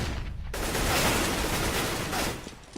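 Dense, sustained gunfire from a professional Counter-Strike: Global Offensive match on Dust 2 roars loudly for nearly three seconds, overlapping rapid shots blending into one harsh barrage.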